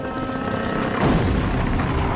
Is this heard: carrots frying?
no